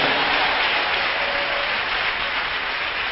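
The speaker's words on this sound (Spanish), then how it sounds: "Denle un aplauso al Señor." Church congregation applauding the Lord during a Spanish-language sermon on prophecy, a steady dense clapping that fills the space evenly for several seconds, no voices over it.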